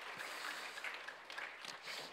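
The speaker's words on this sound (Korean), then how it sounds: "우리 하나님께 영광의 박수 한번 올리겠습니다" A church congregation gives a short round of applause during a service, fairly faint scattered clapping that lasts only a couple of seconds.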